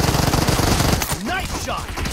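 Rapid automatic gunfire from PUBG Mobile rattles loudly for about a second in a dense burst, then breaks off into fainter tonal game effects and scattered shots.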